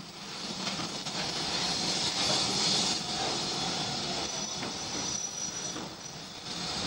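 QG class 060 steam locomotive no. 155 arrives at Navan with a passenger train from Oldcastle, a continuous loud rolling rumble with hiss and faint wheel noise throughout.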